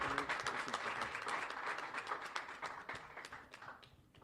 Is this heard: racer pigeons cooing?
no